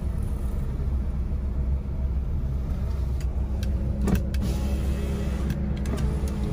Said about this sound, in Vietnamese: Phần kính lên xuống này.